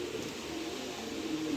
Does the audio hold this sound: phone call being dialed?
no